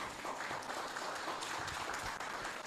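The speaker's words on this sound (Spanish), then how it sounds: "Fuerte aplauso para el Señor." Congregation applauding during a Catholic Mass in church, a steady wash of clapping held at a fairly even level throughout, with a faint voice briefly underneath.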